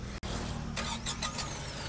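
A 2024 Tata Nexon petrol car's engine starts, with a brief crank and then a steady close idle hum, no talk.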